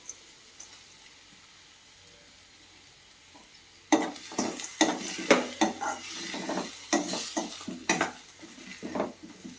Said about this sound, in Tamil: நல்லா வதக்கி காய்க்கு தேவையான அளவு உப்பு சேர்த்துக்கணும்.